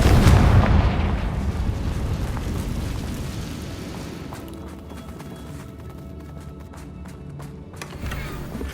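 A Confringo blasting spell explodes in Hogwarts Legacy: a loud, sudden boom at the start that decays into a long rumbling tail, followed by scattered small clatters and debris sounds.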